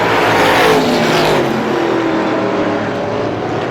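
350 Super Modified race cars roaring around a speedway oval, a loud, sustained engine blare with passing cars blending together and no clear break in the noise.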